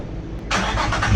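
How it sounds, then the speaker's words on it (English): A Nissan 350Z, just fitted with a new clutch and flywheel, idles low, then its engine roars up into a loud, close rev halfway through the short burst. "Let's give this thing a little rev."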